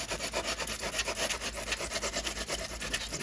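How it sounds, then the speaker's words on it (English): A small hand saw carves a model railroad rock-face escarpment, making rapid, steady back-and-forth rasping strokes, close and continuous, with no talk. "this is also where you can use one of these saws"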